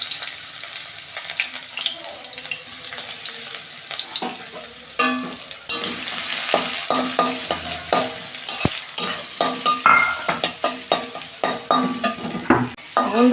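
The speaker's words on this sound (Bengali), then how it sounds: "কড়াই তেল দিয়েছি, পাট শাক ভাজবো।" Garlic, onion and two dried red chillies sizzling in oil in a wok before jute leaves go in, loud and close, with a continuous crackle and repeated scraping stir strokes, no voices.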